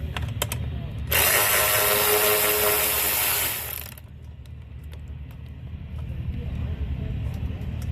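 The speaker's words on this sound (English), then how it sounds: "we're going to use the T30 and a 10mm wrench, and we're going to remove the bolts that hold this lower portion on" A T30 driver and 10mm wrench working bolts loose on a Can-Am X3, with a few seconds of loud, steady whirring from a power driver followed by a low rumbling background and faint mechanical clicks.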